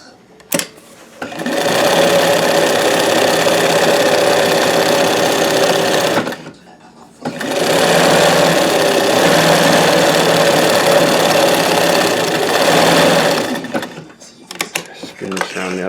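A Janome 672 or Singer 161720 sewing machine stitching a free-motion moonscape, running loud and steady in two long bursts separated by a short pause, with faint clicks at the start and end.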